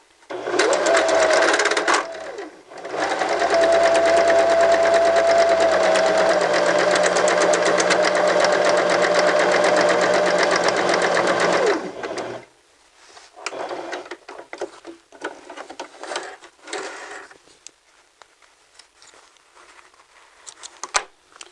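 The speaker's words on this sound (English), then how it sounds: "Now the buttonholer will do the work for you, but you can still make sure you're guiding the fabric to make sure it's staying straight." A sewing machine fitted with a buttonholer stitching a buttonhole in fabric, running in a loud, steady, rapid mechanical chatter for about twelve seconds, then stopping and giving way to softer intermittent clicks and handling noises.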